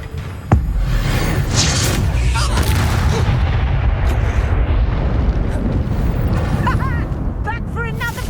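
A fiery Incendio spell blast from Hogwarts Legacy erupts with a sharp onset, then a loud, sustained roaring rumble of flame and debris. Faint chirpy effects come near the end, with no talk over it.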